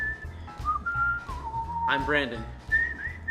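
A person whistles the theme song of The A-Team: clear, melodic, sustained notes with sliding pitch, heard up close, while someone briefly speaks over part of the tune.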